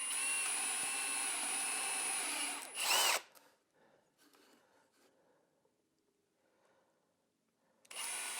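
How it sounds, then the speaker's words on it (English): A power drill with a countersink bit cuts into backer board with a loud, steady whir that ends in a brief surge, followed by faint handling noises and a fresh burst of drilling at the end. "I'm going to use this countersunk bit here and just drill holes all the way along"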